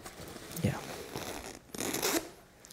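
A zipper rasps open in a couple of short pulls, close by, with rustling fabric between strokes.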